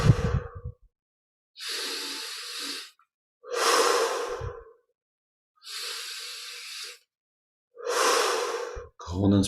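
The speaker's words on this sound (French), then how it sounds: "Grande inspire par les narines et expire par la bouche en laissant l'air sortir." Slow, deep breaths during a guided meditation, each drawn in through the nose and let out through the mouth. Five long airy breaths, close and fairly loud, are separated by silent pauses.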